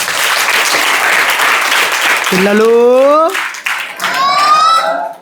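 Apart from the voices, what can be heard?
children clapping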